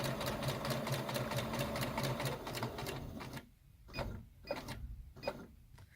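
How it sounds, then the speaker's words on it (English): A sewing machine stitches a half-square-triangle quilt strip, starting with a fast, even run of needle strokes. It then slows to a few separate, spaced stitches near the end. "we're going to stitch up to that solid line."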